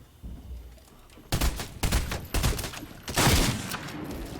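Bursts of SMG fire in Fortnite: several short, sharp volleys in quick succession after a quiet start, loud and close, with no talking.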